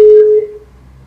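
A phone line gives a single steady tone after a sharp click, holding for about half a second before fading into low background noise, with no talking.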